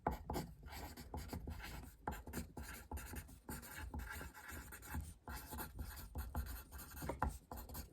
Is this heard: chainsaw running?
no